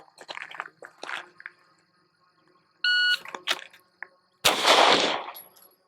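Sig P365 XL pistol fired during timed drills with a shot-timer beep, a short electronic tone followed by a couple of sharp, close reports, the last one loud and ringing out.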